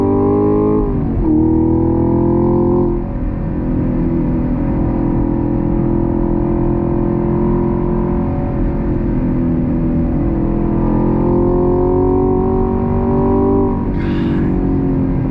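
A 2022 Chevy Camaro SS 1LE engine pulls hard through the gears, loud and close. It rises in pitch, drops at each shift and climbs again over a steady roar.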